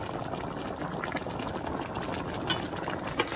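A small amount of liquid boiling in a pot while a quick family dinner cooks, a steady dense bubbling hiss throughout with a couple of brief louder pops, no voices.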